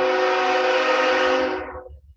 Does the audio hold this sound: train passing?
yes